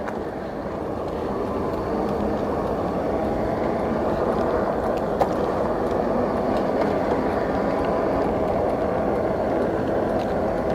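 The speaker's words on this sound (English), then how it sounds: "I hear a train" A train rolling past at night in Henry County, Georgia, a loud continuous rumble of wheels and cars with a faint clickety-clack, steady and close throughout with no talking.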